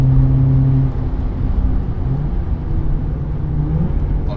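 A Volkswagen Polo GTI accelerating at full throttle on a race track, with a steady, loud engine drone and tire roar heard from inside the car.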